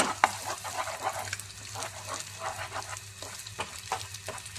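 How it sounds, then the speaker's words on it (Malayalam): Eggs sizzle softly in a pan while a spatula scrapes and stirs in quick, repeated strokes, heard up close with no talking. "മുട്ടയിൽ ഒരു നുള്ളു ഉപ്പിട്ടിട്ട് ഒന്ന് ചിക്കിയെടുക്കാം"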